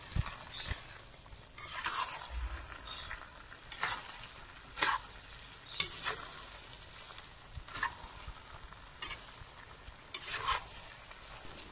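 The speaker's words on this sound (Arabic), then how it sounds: "نحط كميه تاع المقارون في لاصوص ونبدا نحرك" Macaroni being stirred through a sauce in a pan, soft sizzling under repeated scraping strokes of a spoon, the stirs coming in an uneven rhythm every second or two, close and fairly quiet.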